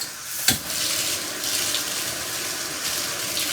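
Tap water runs steadily to rinse the head of a motorized scrub brush with a wand, a close, fairly loud hiss with one sharp knock near the start and no talking.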